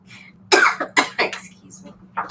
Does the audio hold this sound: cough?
yes